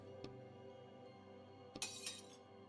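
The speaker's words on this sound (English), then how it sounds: "He drops his teacup on the floor," A teacup drops and shatters on the floor in a video game, a sharp crash of breaking china followed by a few tinkling fragments, set against a faint quiet background.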